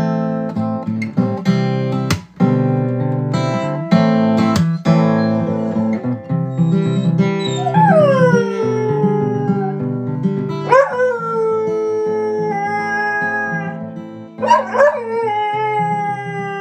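Dogs whimper and howl in long, wavering, rising and falling cries, loud and close, punctuated by a few sharp barks and yips; the voices overlap and sustain for most of the stretch.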